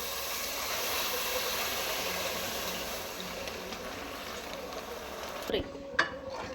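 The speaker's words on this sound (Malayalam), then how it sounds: "നമ്മൾ കാരമൽ പാകമായി ഇനി നമുക്കതിലേക്ക് പാലൊഴിച്ച് കൊടുക്കാം" Milk poured into hot caramel while making sago payasam sets off a steady, fairly loud sizzling hiss, with a couple of sharp clinks near the end.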